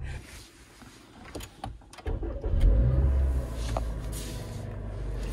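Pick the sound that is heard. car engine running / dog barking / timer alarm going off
car engine running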